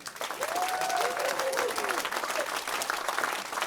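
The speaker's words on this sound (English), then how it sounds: "Just clap if you liked it" A conference audience at Hackerhotel claps in a sustained, even round of applause, moderately loud and without talk.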